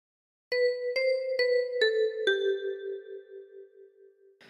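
Five plucked tines on a 10-key kalimba ring out one after another, near and clear, the last note sustaining and fading slowly as the opening phrase of We Wish You a Merry Christmas; no voice.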